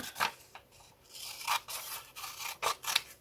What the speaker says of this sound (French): je vais prendre mes gros ciseaux